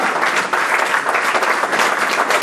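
A church congregation claps together in a steady, dense burst of applause, close and loud, with a faint murmur of voices underneath.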